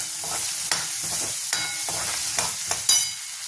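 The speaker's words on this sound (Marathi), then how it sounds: "त्याच्याबरोबर हे लसूण आणि अद्रकचं हे फोडणी" Garlic and ginger tempering sizzling in hot oil for kadhi, with a steady close fry and regular scraping stirs of a spoon against the pan, a few sharper clinks near the end.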